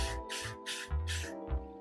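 Four short hissing bursts of an aerosol hairspray on a synthetic wig, close by, each lasting about a quarter second with brief pauses between, over a low background hum.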